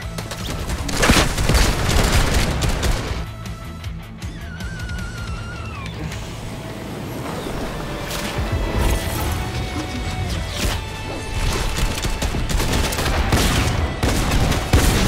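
Gunfire in the Fortnite video game: a dense, loud barrage of rapid shots and bursts runs continuously, mixed with crashes and game effects across the whole stretch.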